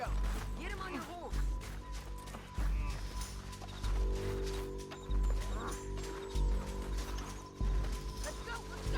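Horse sounds in Red Dead Redemption 2 in an old-west setting: thudding hoofbeats and snorts, recurring in heavy pulses close by, mixed with game music and people talking.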